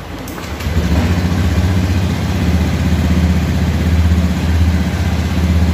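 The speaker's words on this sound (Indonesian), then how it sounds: "Sekarang mesin akan dihidupkan." A Honda Beat scooter engine is started and settles into a steady, close idle with an even rumbling putter that runs continuously to the end.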